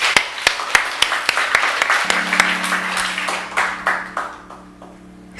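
Applause from a church audience after a testimony, a burst of sharp, distinct claps that thins out and fades over several seconds while a low hum sounds underneath.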